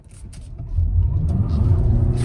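2020 Toyota RAV4 Hybrid taking sharp turns on smooth pavement, a low steady road and engine rumble rising after a quiet start, close and without talk.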